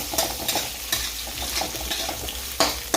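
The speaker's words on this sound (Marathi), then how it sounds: "त्याच्यामध्ये लसूण ऍड करून घेऊ, हिरवी मिरची, कढीपत्ता, खोबरं सगळं मिश्रण याच्यामध्ये आपण परतून घेणार आहे." Garlic, green chilli, curry leaves and coconut sizzle in a hot tempering pan while a spoon stirs and scrapes, with intermittent sharper clinks and pops over a steady frying hiss.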